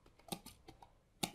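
A few quiet keystrokes on a computer keyboard, soft irregular clicks close by, heard alone.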